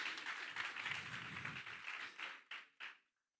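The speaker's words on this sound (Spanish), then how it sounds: "Dale un aplauso al Señor" Church congregation clapping for the Lord near the close of a sermon, a faint, steady patter of many hands that thins into a couple of last claps and then stops.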